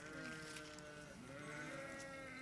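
Sheep and lambs bleating steadily and close by, calls overlapping throughout with no gaps, at an outdoor handover where a lamb and its ewes are given to a shepherd.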